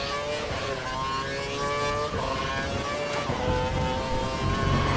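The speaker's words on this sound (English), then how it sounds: "Oh, and skid and bang." A race car in the Formula 1 2012 video game whines at high revs with engine pitch rising and dropping between shifts, loud and close throughout; no distinct skid or impact stands out.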